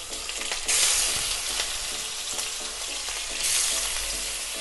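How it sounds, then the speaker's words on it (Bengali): Turmeric- and salt-rubbed rohu fish pieces fry in hot mustard oil, a loud, dense, continuous sizzle up close with brief surges of spattering and faint stirring underneath. "এবারে আমি নুন হলুদ মাখানো মাছগুলো তেলে দিয়ে দিচ্ছি।"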